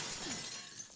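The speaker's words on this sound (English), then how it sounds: "we're going to go in here and open this glass window" A glass window breaks in Resident Evil Revelations 2, a short crashing shatter near the start that trails into a dull, fading rattle of falling shards.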